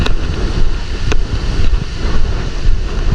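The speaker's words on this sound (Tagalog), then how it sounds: "At yan po yung bangka." Close, loud engine drone of a small wooden fishing boat (bangka) running on open water, blended with wind rush and water wash, one sharp knock early on and otherwise a steady rumbling bed.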